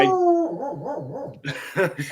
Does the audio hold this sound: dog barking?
yes